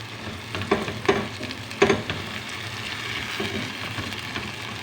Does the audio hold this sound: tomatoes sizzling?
yes